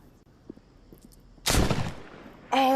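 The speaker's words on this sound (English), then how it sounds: "They are shooting." Gunfire in the Walking Dead VR video game: a few faint taps early on, then one loud, broad burst of shots, followed by another sharp blast near the end.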